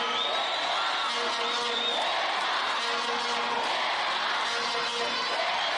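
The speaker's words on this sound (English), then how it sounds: "The crowd is electric out there." Basketball arena crowd at a FIBA U18 African women's semi-final between Egypt and Madagascar, a dense, loud, continuous roar of cheering and whooping that carries steadily throughout.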